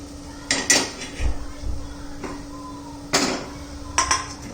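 A metal tawa griddle is set onto a home kitchen stove, giving a few sharp clanks and clatters spread over several seconds above a steady low hum, close by and with no talk.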